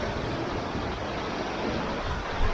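A waterfall at the end of a mountain trail in Japan below tall cliffs, heard as a steady, dense roar of falling water, moderately loud and unbroken throughout.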